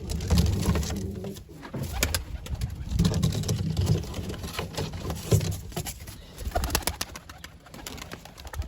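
Mardin smoky tumbler pigeons coo in a low, repeated rumble, with soft wing patter and bird calls close by, steady throughout with no talk.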